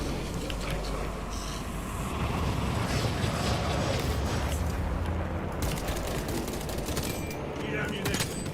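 Video game gunfire rattles in dense, continuous bursts under a busy mix of explosions and engine-like rumble, loud and sustained, with a voice talking over it.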